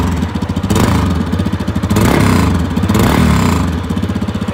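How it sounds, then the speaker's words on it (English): A 2019 Yamaha XT 250 dual-sport motorcycle engine idles with a rapid, loud putter, then revs up three times in quick surges before settling back to a steady idle. "Now let's listen to that as we rev the engine a little."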